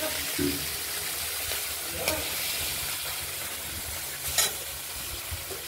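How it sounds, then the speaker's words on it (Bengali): Cut katla fish pieces fry in hot oil in a wok, giving a steady close sizzling hiss with a few louder crackles and stirring clatters. "ভেজে তুলে নিয়েছি, আর একটা বাকি আছে"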